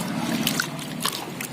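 Water soaked with vegetable and fruit peels trickles and splashes softly onto potted plants, a steady close pour with light sloshing throughout.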